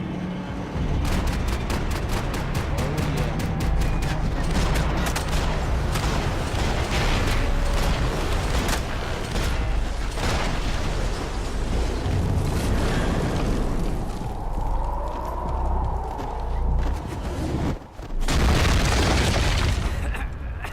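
A shootout in the video game Max Payne 3, with a long stretch of sharp, repeated gunshots and heavy booming impacts. Volleys come in clusters over a constant loud rumble, briefly thinning near the end before firing resumes.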